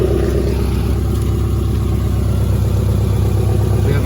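Subaru Impreza with a cheap aftermarket eBay exhaust, only partly fitted and not yet welded, idles steadily up close with a low, droning, slightly raspy burble and no voices.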